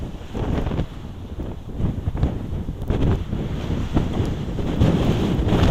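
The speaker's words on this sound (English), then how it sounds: "He's taking a little siesta here on the beach, on the windy Coney Island beach." Strong wind and breaking surf on a windy Coney Island beach, with gusts buffeting the microphone in loud, steady roaring bursts and no talking.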